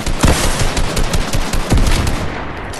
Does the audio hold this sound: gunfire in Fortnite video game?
yes